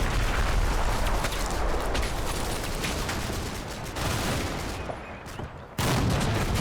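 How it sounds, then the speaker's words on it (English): Vickers machine gun fire in a Normandy battle in the Combat Mission war game: a dense, loud, continuous fusillade of rapid shots that briefly thins near the end, then resumes at full strength. "Just under the Vickers fire there."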